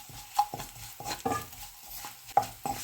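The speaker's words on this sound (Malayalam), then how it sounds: "ഇനി നമുക്കിതൊന്ന് ഇളക്കി കൊടുക്കാം." Turmeric powder and onions frying in a pan for a Kerala-style red spinach and egg thoran, stirred in short scraping bursts with a few light clinks of the spoon against the pan.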